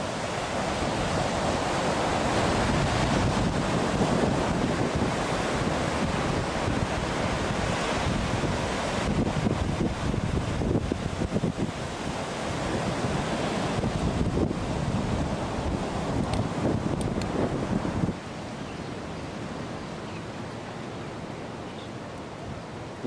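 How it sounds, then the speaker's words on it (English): Ocean surf at a beach where people swim and surf, a steady roar of breaking waves mixed with heavy wind buffeting the microphone, continuous and loud before dropping a little in level toward the end, with no talking. "Surfers out there, people are taking a dip in the ocean."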